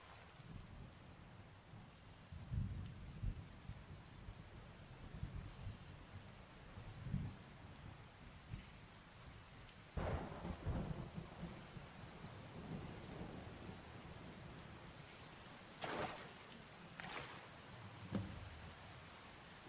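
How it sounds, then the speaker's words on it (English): Steady rain falls outdoors beside fishing water, with several thunder cracks and rumbles breaking through, some sharp and near, others deeper and rolling. "Yep, here's the rain."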